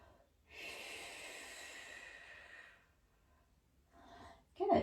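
A long audible inhale during a Pilates exercise, a soft airy breath lasting a couple of seconds, then a shorter breath and a brief vocal sound, close and quiet.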